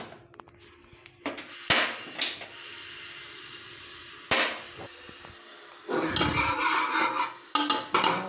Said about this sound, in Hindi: इसमें मैं आज देसी घी डालूँगी।